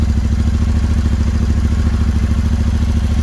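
A Royal Enfield Interceptor 650 fitted with an AEW exhaust idles close by, a loud, even, low-pitched throb with a steady pulsing rhythm and no talking.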